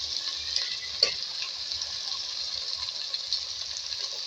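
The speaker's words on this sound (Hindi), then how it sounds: "कुटी हुई हरी मिर्च 1 खाने का चमचा, इसको भी फ्राई करेंगे" Crushed green chilli fries in a pan with a steady, soft sizzle that runs throughout, broken by one louder clink or stir near the start and faint low ticking underneath.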